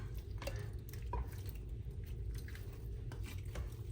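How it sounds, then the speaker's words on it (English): Al dente pasta, still dripping water, tipped into a Velveeta cheese sauce for Rotel pasta: faint scattered drips and light clinks of cookware over a steady low kitchen hum. "Still dripping a little water, but we're gonna go ahead and add it in."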